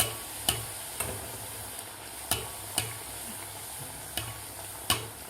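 Jowar flour puris deep-fry in hot oil under a soft, steady sizzle. Sharp metallic taps from a utensil come at roughly half-second to one-second intervals, quiet and close.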